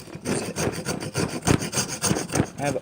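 A rasp or file works the blade of a wooden knife by hand to thin it, making rhythmic scraping strokes about four or five per second, close and fairly loud, with no talk.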